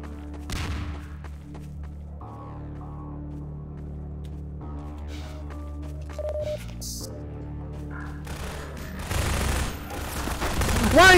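Video game gunfire rings out in a chaotic match: bursts of automatic shots and a dense fusillade swell toward the end, mixed with electronic game tones and beeps.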